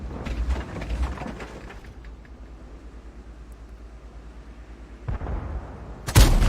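A tank cannon fires in World of Tanks from an IS-2 heavy tank: a sharp, loud blast bursts in near the end, after a stretch of low engine rumble and earlier gunfire.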